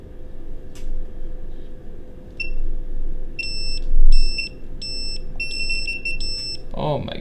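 A 4S lead-acid CC-CV battery charger gives short, sharp electronic beeps in spaced bursts, loud and close, with a voice speaking in the background.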